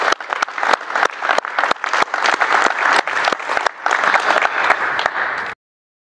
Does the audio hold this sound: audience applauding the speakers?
yes